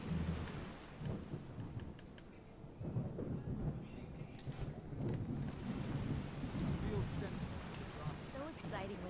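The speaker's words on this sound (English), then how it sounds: "This rain is crazy." Heavy rain pours steadily in Skyrim while deep thunder rumbles roll through it, the storm loud and continuous, with faint voices now and then over the downpour.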